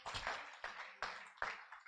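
A church congregation clapping together, four distinct rhythmic bursts of handclaps in steady time, moderately loud and close, with no talking over them.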